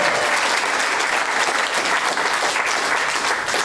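Sustained, dense applause from a stand-up comedy audience, steady and loud throughout with no pauses.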